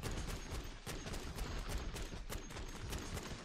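Gunfire in MW3 Zombies, a rapid, continuous volley of repeated shots from several weapons at once, fairly faint and steady throughout.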